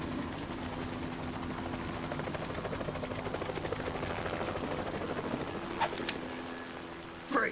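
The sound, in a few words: helicopter in video game Metal Gear Solid 2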